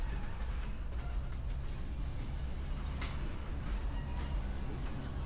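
Riding aboard a historic train in Virginia City, Nevada: a continuous loud rumble and rattle of the cars rolling along, steady throughout with no one talking.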